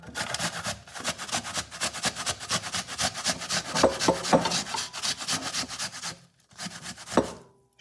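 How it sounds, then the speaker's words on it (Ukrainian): Peeled apples rubbed back and forth over a coarse kitchen grater, a steady rapid scraping rhythm close up, with a brief pause near the end before a few more strokes. "Очищені яблука, ось так беремо і натираємо на терці, на крупній."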